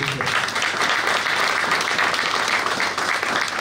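An audience at a regional association general meeting in Île-de-France bursts into sustained, dense applause, loud and continuous throughout with a faint voice underneath.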